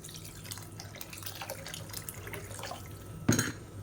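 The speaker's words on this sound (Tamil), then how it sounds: "இப்போ குழம்புக்கு தேவையான அளவு தண்ணி ஊற்றிக்கலாம்" Water poured into a pot of tamarind fish curry (meen kulambu), a soft trickling and splashing with one sharp louder splash near the end, quiet and close, no talk.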